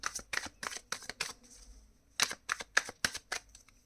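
Tarot cards are riffled and flicked in quick, crisp bursts during a reading, a run of close, sharp shuffles followed by a pause and another flurry of card snaps.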